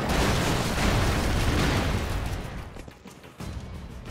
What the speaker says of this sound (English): God. The Justice Grenades.